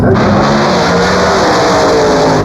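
A race car engine roars loudly and close, starting with a sharp onset and holding a sustained, throaty revving drone throughout with no pauses.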